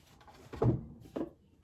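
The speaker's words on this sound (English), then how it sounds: "They go right in this drawer. There's this little flat drawer." Small flat drawer sliding open or shut, giving a short wooden thud followed by a second softer knock, close and alone.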